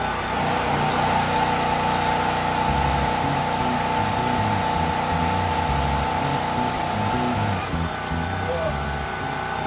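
A PK4000E2R generator drones loudly and steadily while powering a welding machine set to 165 amperes, with a constant hum running throughout.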